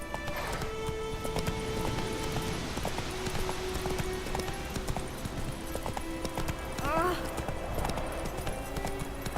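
The horse Roach gallops in The Witcher 3, hooves clip-clopping in a steady rapid rhythm throughout, layered with game ambience and voices speaking.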